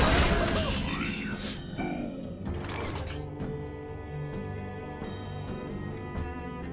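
The Magmatron card played in Hearthstone, from a Tavern Brawl at Blackrock Mountain: a loud crashing, rumbling burst followed by a quieter mechanical whirring with rhythmic ticks.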